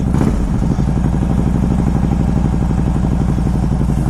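A motorcycle engine, a slightly dirty bike, runs loud and close with a steady rhythmic throbbing pulse throughout, constant in level with no talk.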